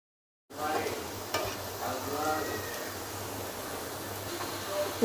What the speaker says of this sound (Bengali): এরপর যে আমরা বেরেস্তার জন্য পেঁয়াজ ভেজে নিব লাল লাল করে।